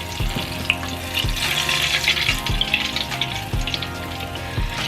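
Chicken drumettes deep frying in hot oil give a dense, continuous sizzle and crackle, punctuated by a few sharp metallic clanks from a scoop or basket.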